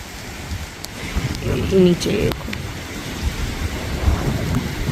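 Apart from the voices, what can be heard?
heavy rain with thunder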